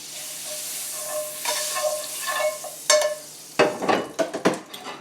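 Butter sizzles in a pan, a soft steady frying hiss, with light utensil taps and clinks. Near the end come louder scraping and stirring knocks against the pan.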